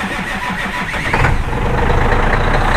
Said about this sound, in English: We'll let you guys hear a cold start.